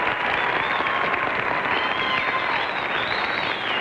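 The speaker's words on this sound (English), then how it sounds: "who deserves a round of applause, too" A 1950s television game show studio audience claps steadily and loudly, a dense wash of applause lasting throughout.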